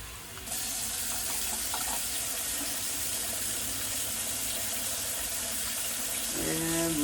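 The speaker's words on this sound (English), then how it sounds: "just turn the tap on" Tap water runs steadily into the reservoir of a Hicozy ice machine, a continuous close splashing rush that starts abruptly and holds even, with a brief voice near the end.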